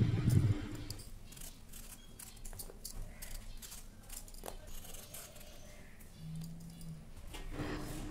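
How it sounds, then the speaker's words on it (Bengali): A raw green mango is peeled and sliced by hand with a blade in a home kitchen, producing faint, close scraping strokes and soft cutting clicks scattered over a quiet background. "ডালটা সেদ্ধ হতে হতে আমি আমটার খোসা ছাড়িয়ে কেটে নেব"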